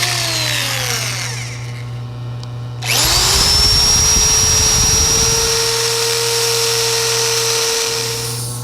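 A wooden toothpick dispenser spins on a wood lathe as sandpaper is held against it, giving a loud steady motor whine with a rough, hissing abrasive rasp that rises and then holds.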